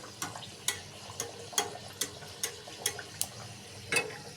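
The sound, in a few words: Mughlai paratha frying as oil is poured on top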